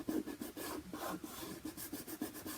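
Rubbing by hand around the edges of a paper craft animal on a table, a steady rasping scrape in repeated short strokes, close and moderately quiet with no talking.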